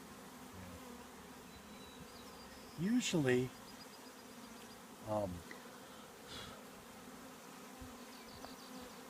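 Honeybees buzz around a frame lifted from a hive, a constant close hum with voices talking briefly over it in two short bursts.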